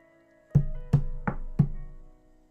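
Four evenly spaced, sharp knocks on a door, close and solid with short resonant decays, sound alone against quiet.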